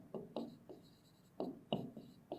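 A maths problem being written out by hand: pen or marker strokes scratch in short separate bursts with pauses between, close but faint, with no talk.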